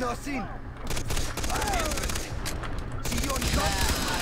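Sustained automatic gunfire from the video game Far Cry 3, dense rapid bursts running nearly the whole time with scattered shots and game effects layered in, loud and close.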